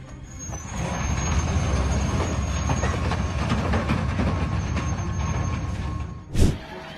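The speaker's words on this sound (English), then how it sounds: "A train crashed into an 18-wheeler in Waller," A train rumbles loudly and steadily for several seconds, then a sharp crashing impact bursts out near the end as it collides with an 18-wheeler semi truck.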